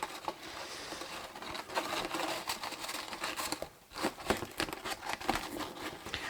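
Sharp scissors snip through ribbon in quick, close crinkly cuts, with rustling bursts and a short pause partway through. The cutting is fairly quiet.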